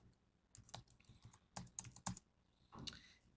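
A computer keyboard is typed on during live PHP coding: a handful of irregular clicking keystroke bursts, some in quick pairs, close but quiet, with no voices.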